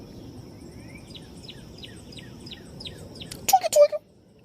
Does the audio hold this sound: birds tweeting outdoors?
yes